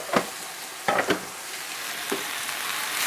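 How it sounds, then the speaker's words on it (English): Leek, garlic, carrots and bok choy sauté in a pan with a steady, soft sizzle, broken by a few brief stirring scrapes near the start and middle. No one speaks. "So we'll just saute this for a few minutes."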